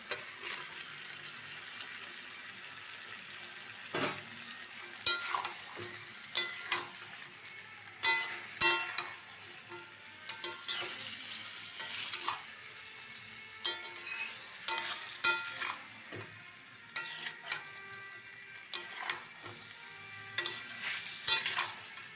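Masala frying in a pan with chicken stock for chicken curry, a soft steady sizzle broken by repeated scraping stirs and utensil taps throughout, fairly close and without talk.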